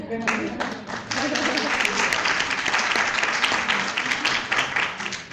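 Audience applause at a EuroCALL conference presentation in Valencia, a steady round of clapping from a room of listeners filling the whole stretch, with some voices mixed in.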